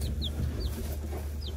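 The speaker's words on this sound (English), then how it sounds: "I got a bucket of chicks." Newly hatched chicks in a bucket give a few short, high peeps over a steady low background hum, close by and moderately loud.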